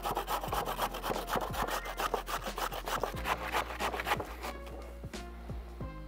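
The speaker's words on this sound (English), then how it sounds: "I'm just gonna grate it on the big side of the grater." Cabbage heart scrapes rhythmically across the big side of a box grater, about three rasping strokes per second, close and steady, slowing to scattered scrapes at the end with no talk.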